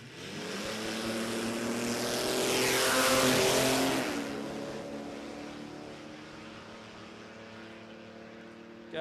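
A little Holden six-cylinder drag car launches and races down the strip at Warwick Dragway, its engine roaring as it passes close and loud, then fading into the distance.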